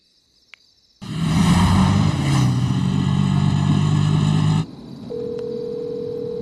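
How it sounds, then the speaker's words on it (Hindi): A telephone rings late at night in a Hindi action thriller, a loud, harsh electronic buzz that holds for several seconds, cuts off, then gives way to a steady, quieter tone. "इतनी रात में किसका फोन आ रहा है?"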